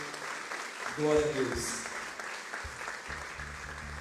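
A church congregation applauds briefly during a service, the clapping sitting under a voice offering praise and a busy room tone.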